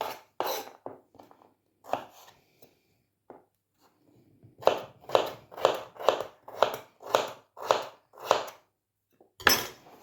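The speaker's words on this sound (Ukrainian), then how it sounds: "І такою невеличкою соломкою буду нарізати перчик." A knife slicing bell pepper into thin strips for a green tomato salad, sharp close chops on a board, scattered at first and then settling into a steady run of about ten evenly spaced cuts.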